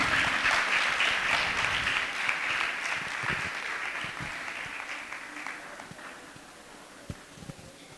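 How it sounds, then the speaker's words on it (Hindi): Applause of welcome at a Jain religious discourse gathering starts full and dense, then slowly fades into scattered individual claps toward the end. "तालियां बजा करके स्वागत करें।"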